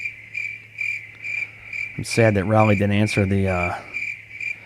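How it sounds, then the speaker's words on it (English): Crickets chirp in steady, evenly spaced pulses, a constant high trill that runs throughout, while someone talks over the middle of it. "these crickets just kept going"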